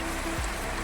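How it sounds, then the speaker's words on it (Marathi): Heavy rain falls on a farm, a dense, continuous hiss of water pouring down with a brief low rumble in the middle. "आता जोरदार पाऊस आलेला आहे."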